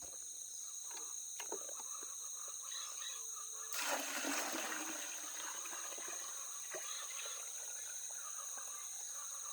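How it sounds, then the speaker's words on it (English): Water is poured into a homemade organic plant fertilizer mixture in a brief splashing burst partway through, amid quiet background noise and a high steady whine. "Now what I'm about to do is add some water to it."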